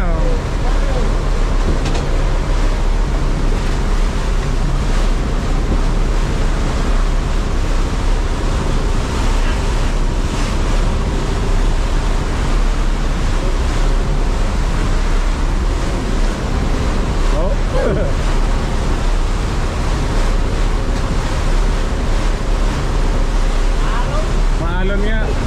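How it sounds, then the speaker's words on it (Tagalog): Rough sea around an outrigger fishing boat during a crossing, with continuous heavy wave wash and strong wind buffeting the microphone, a loud, unbroken roar throughout. "Balagbag yung alon."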